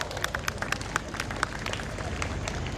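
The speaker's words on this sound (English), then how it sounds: "Let's have a huge round of applause for her" A school audience at Treehouse High School, Virar, claps for the head girl during the annual day celebration, a dense patter of hands from a crowded hall with a faint murmur underneath.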